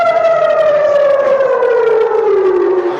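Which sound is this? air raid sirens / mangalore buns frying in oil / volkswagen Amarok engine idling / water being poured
air raid sirens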